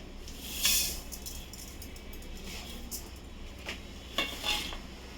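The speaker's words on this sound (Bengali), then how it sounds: "তো বন্ধুরা দেখুন, চরবার চরবার করে একটা আওয়াজ হচ্ছে" Fenugreek, fennel, cumin, coriander and mustard seeds dry-frying in a pan, a faint crackling hiss with a few clinks and scrapes of a spoon against metal, close but quiet, no voices.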